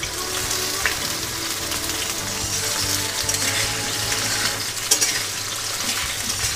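Half-boiled potatoes fry in a pan with a steady, close sizzle, stirred now and then with occasional utensil scrapes and a brief clink near the end.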